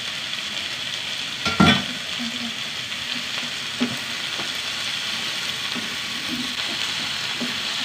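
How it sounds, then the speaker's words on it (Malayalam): Spinach sautéing in a hot pan, giving a continuous even frying hiss with occasional soft stirring clicks and one louder scrape early on, no talking. "ഒന്ന് വഴറ്റിയെടുക്കട്ടെ"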